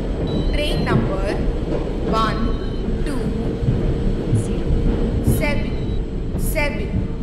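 A train arriving at a station in the Indian Train Simulator game, heard as a continuous rumbling rail noise with a station announcement spoken over it.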